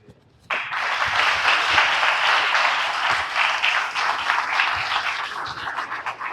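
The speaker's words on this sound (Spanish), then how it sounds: "con este fuerte aplauso nosotros felicitamos" Strong, dense applause from the audience at an academic investiture ceremony, bursting in suddenly and holding at a steady, loud level of many hands clapping together.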